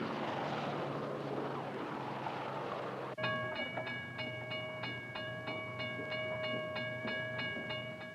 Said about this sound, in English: trains like this are a fast way to move many people from the suburbs to their jobs in the city